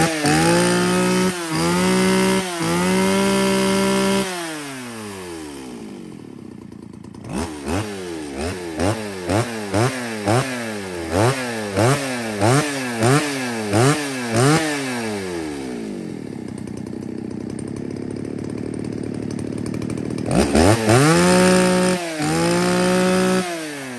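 A Shindaiwa 352 chainsaw engine idles, revs hard in a series of rising-and-falling bursts, then settles and roars again; loud, close, no talking.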